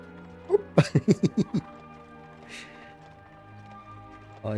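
In Dragon Quest 8, a horse's hooves give a quick run of about six clip-clops close by, then fade to quiet game ambience with a soft swell near the end.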